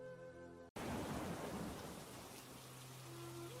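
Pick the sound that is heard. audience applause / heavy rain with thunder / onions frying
heavy rain with thunder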